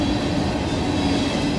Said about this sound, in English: Good train.